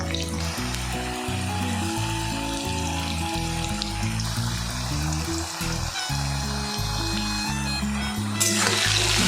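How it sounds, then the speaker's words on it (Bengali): Potatoes frying in oil with a little salt and turmeric give a steady, continuous sizzle that runs beneath rhythmic background music throughout. "এবার এখানে আমি সামান্য পরিমাণে লবণ আর হলুদ দিয়ে আলুগুলোকে ভেজে নেব"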